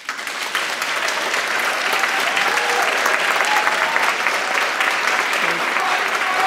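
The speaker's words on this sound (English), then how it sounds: "Hold the applause" An audience at a celebration honouring a retiring costume designer breaks into sustained, full applause that swells and holds at a steady, dense level.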